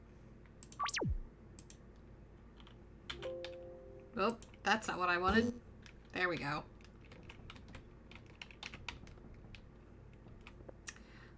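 Typewriter in a spooky basement of a horror video game, scattered keystroke clicks with a rising whoosh and short chimes, while a person talks over part of it.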